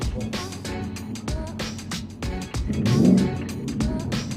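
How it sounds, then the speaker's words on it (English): A Mustang's engine drops through a downshift, the revs dipping and then swelling into a louder, rising growl near the end, heard from inside the car with road noise and a brief voice. "Haha, downshift."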